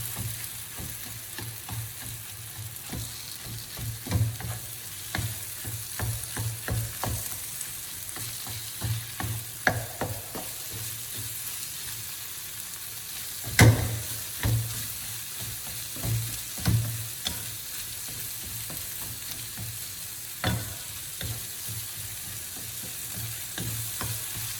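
Kefta fries with onion in a hot pan, a steady close sizzle broken by occasional sharp scrapes and clatters of stirring, with no talking.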